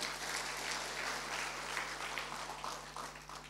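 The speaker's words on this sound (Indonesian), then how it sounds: "Tepuk tangan untuk Tuhan" A church congregation applauding steadily during a worship service, dense and continuous clapping that holds at an even level before easing slightly at the end.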